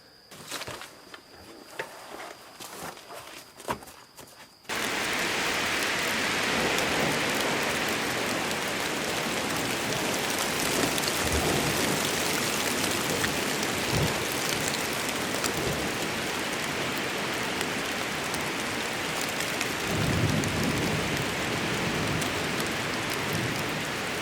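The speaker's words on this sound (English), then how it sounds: "I'm starting to feel the first raindrops" Heavy rain begins abruptly after a few seconds of quieter outdoor sound at an off-grid log cabin build, then pours steadily and loudly on surfaces, with a faint low rumble of thunder near the end.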